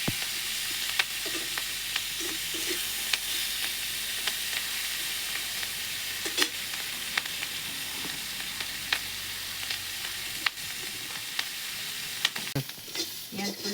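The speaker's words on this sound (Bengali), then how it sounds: "পেঁয়াজ কলিটা ভাজা হয়ে গেছে" Spring onion stalks fry in a little oil in a wok, giving a steady close sizzle with occasional stirring clicks and scrapes throughout.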